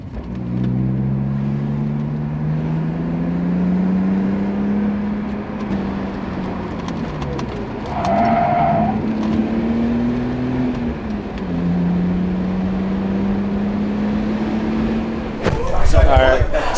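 BMW E46 lapping a race track, its engine a steady droning hum that rises and dips through gear and throttle changes for the whole stretch, loud inside the cabin, with a sharp burst of noise at the end.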